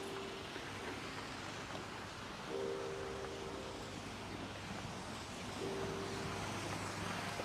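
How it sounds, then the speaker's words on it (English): Water on the grounds of a luxury home in Waterkloof flows and splashes in a steady, broadband wash, mixed with wind noise and a faint intermittent hum. "you hear the sound of the water in your own property"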